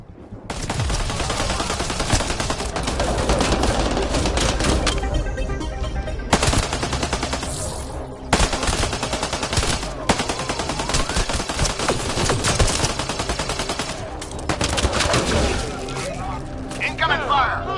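Sustained automatic gunfire in the Mass Effect video game, with dense rapid bursts and sharp cracks running almost without pause, loud and close, with combat voice callouts mixed in.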